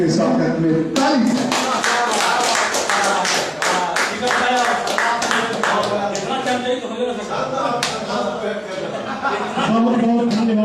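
An audience claps to welcome a poet at a district literary gathering in Aurangabad, Bihar: sharp, dense handclaps close by, continuing for about ten seconds with light chuckles mixed in.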